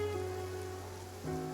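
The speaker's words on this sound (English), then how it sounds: "It's been raining non-stop for a few days now." Rain falling steadily in Genshin Impact, a constant broadband patter on surfaces, alone under sustained game music tones.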